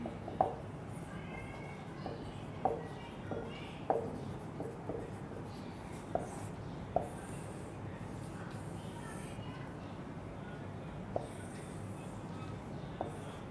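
Pen scratches across paper while a CBSE Class 12 math board problem is worked out, with faint continuous writing and occasional soft taps, quiet and close with little else around.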